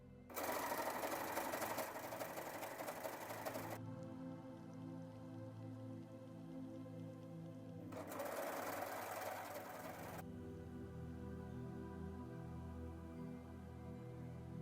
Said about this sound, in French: Maintenant, on passe à la surjeteuse.